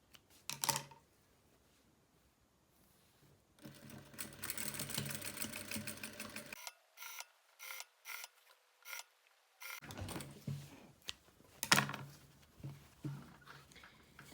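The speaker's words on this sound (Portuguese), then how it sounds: "agora eu vou costurar a rendinha aqui rente à emenda" Sewing machine running in several bursts as it stitches lace trim close alongside a seam on a small cosmetic bag, with rapid mechanical needle clatter, short pauses between runs and a quiet gap in the middle.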